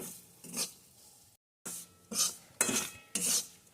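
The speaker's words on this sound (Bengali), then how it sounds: "এখন অল্প আছে সুজিটাকে ভালো করে ভেজে নেব" Semolina dry-roasting in a pan for carrot sandesh, heard as short bursts of gritty spoon scraping against the metal with brief pauses between strokes. The sound is close and fairly quiet, and no one speaks.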